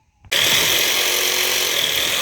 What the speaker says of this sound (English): get a saw, cut off what's left